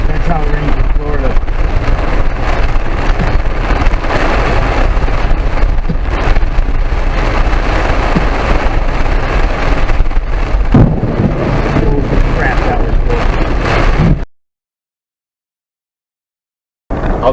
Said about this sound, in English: That's how it rains in Florida.